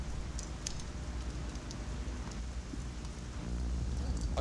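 Steady rain falling outside, a soft continuous hiss with faint scattered drops, fairly quiet and even, with no voices.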